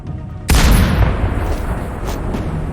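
In a video game, barrels explode with a sudden loud boom after a brief quiet moment, followed by a sustained roaring rumble that lingers and slowly fades.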